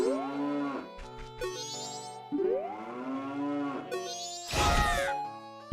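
Synthesized cow moos from the Zelda: Majora's Mask video game, several long drawn-out lowing calls one after another with a brief bright chime between them, loud and close, with no talking.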